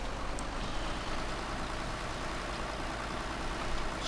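Old tractor engine in Farming Simulator 2013, a steady low drone running without a break, idling or pulling at a constant rate, moderately loud and close with no talk over it.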